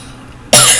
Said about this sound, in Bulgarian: Защо кашлям?